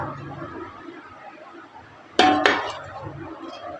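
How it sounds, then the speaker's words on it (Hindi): Mutton kunna is served from a matka pot into a dish: two sharp, close metallic clanks in quick succession, followed by quieter clatter over soft background noise. "डिश आउट करते हैं"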